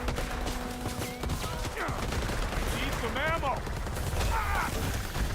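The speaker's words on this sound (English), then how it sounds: "he's firing the net gun." In the game Predator: Hunting Grounds, a net gun fires amid a noisy stretch of rapid gunfire bursts and mechanical clatter, with short whistling electronic chirps over a dense rumbling background.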